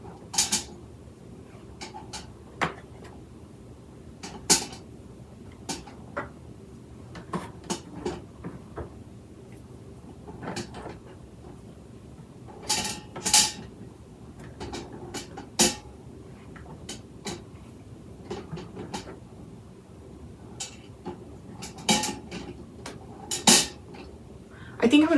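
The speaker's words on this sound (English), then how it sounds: "I'm just going to carefully place the eggs in here" Eggs are set one at a time onto a small rack inside a pot, each placement a light clink or tap against metal, scattered irregularly over quiet background, with faint talk at times.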